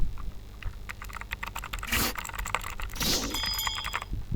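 Rapid clicking keystrokes on a computer keyboard, a dense, close patter of key presses with a few louder taps, heard alone without speech.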